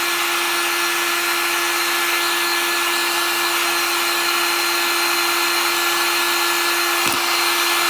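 Steady, close hair dryer blowing heat over wet chalk paint on a Christmas craft piece, a continuous even whoosh with a faint whine, no voices.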